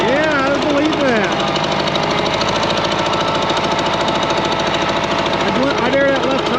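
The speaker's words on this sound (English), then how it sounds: "there's an exhaust leak up ahead" A 1960 International 460 tractor engine with an exhaust leak runs steadily, giving a rapid, loud chuffing knock and throb, while people talk over it.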